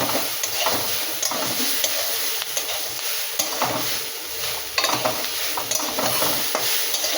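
Radish greens are stir-fried with radish in a pan, giving a steady sizzle with repeated scraping stirs and light clicks of a utensil against the pan, close and continuous with no talking.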